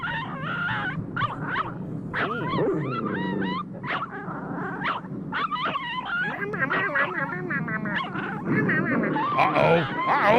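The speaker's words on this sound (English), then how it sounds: "Look at that fucking dog." A dog gives a long, busy run of yelps, whines and growling yips, close and fairly loud, with some voices mixed into the noise.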